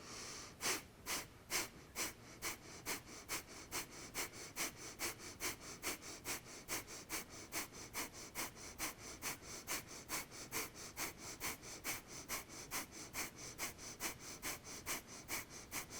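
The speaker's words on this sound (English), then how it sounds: "Breath of fire is sharp, quick inhales, exhales, pumping from the belly." Breath of fire yoga breathing pumps rapid, sharp nasal breaths in a steady, even rhythm, about two per second, close and quiet, running continuously with no talking.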